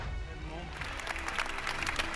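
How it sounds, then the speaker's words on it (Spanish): A crowd of feminists, citizens and local residents applauds Gisèle Pelicot outside the court in Mazan, sustained clapping that swells after a moment and carries on under a news voice. "un grupo de feministas, ciudadanos y pobladores de Massan recibieron a Giselle entre aplausos"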